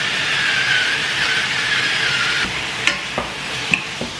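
Meat for menudo sizzles steadily in a hot pan, a constant loud frying hiss, while a utensil scrapes and knocks against the pan a few times near the end.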